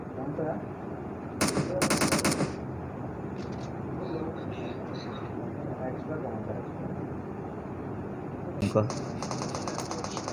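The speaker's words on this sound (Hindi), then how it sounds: "पीस को नॉक किया जी गॉड्स अली शाह ने एसकेएस से।" Gunfire in the PUBG Mobile game, including SKS rifle shots, comes as two short bursts of rapid shots early and another near the end, over a steady background of game ambience and a talking commentator.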